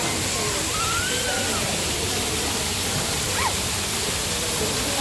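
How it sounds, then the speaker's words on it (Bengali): An artificial rain fountain at an aquarium park in Agargaon, Dhaka, splashes water in a continuous, loud, even roar, with a faint chirp briefly audible over it. "বৃষ্টির ঝর্ণা,"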